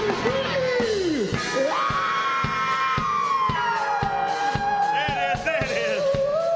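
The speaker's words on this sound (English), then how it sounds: "Everybody, somebody scream!" A crowd at an outdoor Harlem Day stage show on Saint Nicholas Avenue screams and yells loudly and continuously, with whoops rising over the sustained roar.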